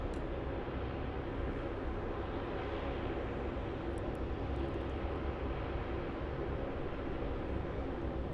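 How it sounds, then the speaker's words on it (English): A Vietnam Airlines Airbus A350-900 jet roars broadly and steadily overhead after takeoff from Melbourne Airport, a constant wash of distant engine noise with no talking. "there goes Vietnam Airlines, that A350 900. Finally making that right-hand turn over towards Keilor and the western suburbs"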